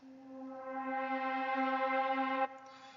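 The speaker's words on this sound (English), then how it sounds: "we went ahead and just got this pad here called the Maze One Shot" A single sustained synth pad note swells in softly, holds steady and bright for a couple of seconds, then cuts off and fades, quiet and alone.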